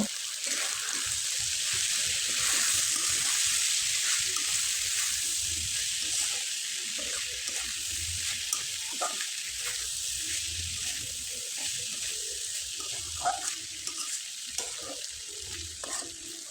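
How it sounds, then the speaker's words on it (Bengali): Boiled chana dal with onion and coriander being stirred in a pan, a steady soft sizzle with scraping stir strokes running throughout, fairly quiet and close, with no talking. "কিছুটা ধনে পাতা ব্যবহার করে খুব ভালোভাবে নেড়ে চেড়ে নিব"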